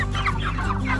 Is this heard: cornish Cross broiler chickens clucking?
yes